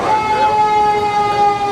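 A fire engine siren passes along a street, loud and near, holding a steady wailing tone with traffic rumble underneath and no talk over it.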